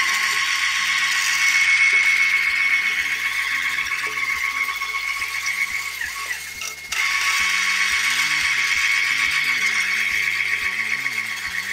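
A whirring electric mixer beats yogurt cake batter, its motor steady and loud, pausing briefly partway through before starting again.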